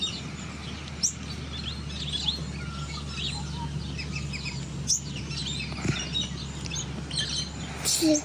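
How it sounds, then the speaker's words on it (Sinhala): Small birds chirp at a Sri Lankan family campsite in the morning, scattered bright tweets near and far over a steady low hum, with a few sharper calls toward the end. "ඊළඟ දවසේදී අපි ඇහැරුණේ මේ කුරුල්ලන්ගේ සද්දෙත් එක්ක."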